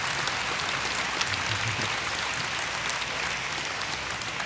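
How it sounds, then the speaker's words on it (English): Steady applause from a crowd at a MINECON 2013 panel, dense clapping throughout with no pauses. "So give an applause for Ryan."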